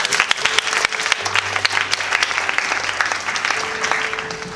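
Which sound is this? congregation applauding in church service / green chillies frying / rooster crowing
congregation applauding in church service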